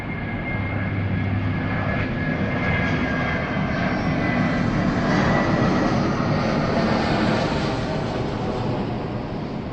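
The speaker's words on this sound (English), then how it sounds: "we're on the flight path of the aeroplanes as well" Airplanes on the approach path to an airport near a seaside hotel roar overhead, a loud continuous engine drone that swells and fades slightly across the whole stretch, with no talking.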